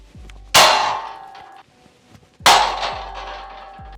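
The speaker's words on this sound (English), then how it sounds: "I think we try to just tomahawk it at the pole." A handgun topped with a Holosun 507comp sight thrown against a metal pole, two sharp ringing clangs a couple of seconds apart, each decaying with a bright metallic shimmer.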